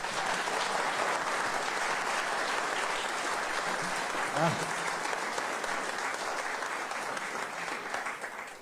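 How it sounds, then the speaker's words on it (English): Applause from a large audience at a youth town hall in Kenya, steady and sustained throughout with dense clapping and a brief voice rising midway. "Let's give another hand of applause."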